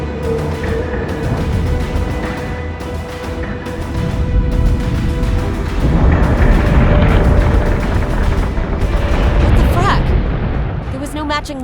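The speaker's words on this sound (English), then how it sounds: "My God, a nuclear explosion." A nuclear detonation aboard a space station in Battlestar Galactica: Deadlock, rising into a loud, rolling roar partway through and sustaining a broad rumble over a tense cinematic backdrop.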